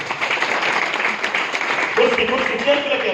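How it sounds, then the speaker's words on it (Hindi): A seated audience at a motivational goal-setting session claps loudly for someone being welcomed, with continuous applause mixed with background voices and a brief tonal sound partway through. "इनके लिए जोरदार ताली बजाइए।"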